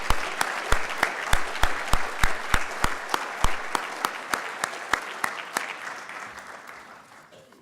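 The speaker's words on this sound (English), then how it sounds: "Let's give him a round of applause." Applause at a city address, a crowd clapping with a close, loud, regular beat of single claps leading the rhythm, gradually slowing and softening as it dies away.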